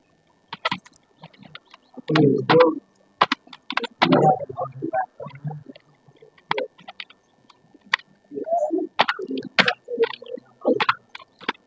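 Code being typed into Notepad on a computer keyboard, with clusters of close, sharp key clicks coming in irregular bursts and brief pauses between them, and no one talking.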